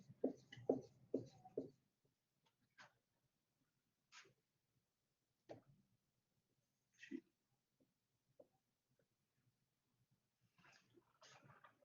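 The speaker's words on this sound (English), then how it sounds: "I'm going to have to draw a smaller beaker" A pen sketching a small beaker on a writing surface during a chemistry lecture, heard as short scratchy strokes in separate bursts spread across the stretch, with a denser flurry at the start.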